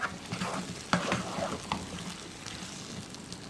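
Half a kilo of chopped tomatoes cooks in a pan for prawn biryani, giving a soft, steady sizzle broken by a few scraping stirring knocks close by.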